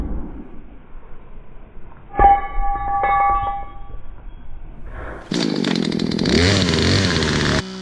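After a few sharp knocks and a metallic ring, a chainsaw roars into life and cuts into a tree, its loud buzzing drone holding steady at close range for the last few seconds.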